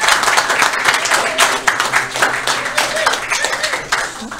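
Wedding guests at a church wedding service clap in a dense, lively burst of applause that swells and stays loud throughout, with voices cheering and calling out among the claps.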